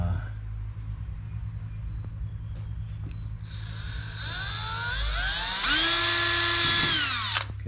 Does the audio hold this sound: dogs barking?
no